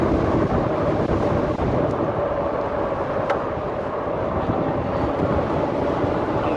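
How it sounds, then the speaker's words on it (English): Strong wind roars steadily across the microphone while riding a Rad Power RadRover electric bike outdoors, a loud continuous buffeting rumble that masks everything else, with no talking. "Ooh, it is windy."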